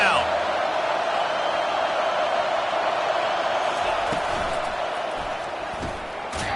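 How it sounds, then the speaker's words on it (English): A college football stadium crowd, Georgia versus UCLA, swells into a loud, sustained roar on third down, a dense wash of noise holding steady throughout. "Decibels rising as the crowd gets behind this defense on 3rd down"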